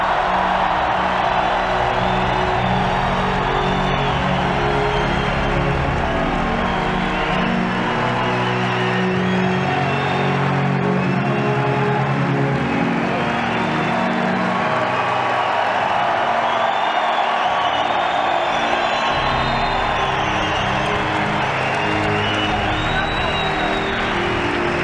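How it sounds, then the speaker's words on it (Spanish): Large crowd gives a sustained, dense wave of applause and cheering with whoops for Argentine President Javier Milei at a speech event in Spain, steady and loud throughout. "Recibamos con un fuerte aplauso al presidente de la República Argentina y doctor Javier"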